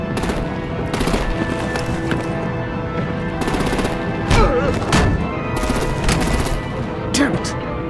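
In the Batman: The Enemy Within video game, Episode 2, bursts of rapid automatic gunfire crackle again and again over several seconds. Sharper shots stand out now and then, all set against a steady background of game sound.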